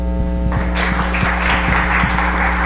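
Audience applause welcomes María Santoyo at a talk on Nikola Tesla, the clapping starting after half a second and continuing steadily over a constant low electrical hum, fairly close and loud.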